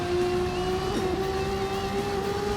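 Engine-swapped Toyota 86 racing in Gran Turismo 7, its engine holding a loud, steady sustained drone with a brief pitch wobble, alone without talk.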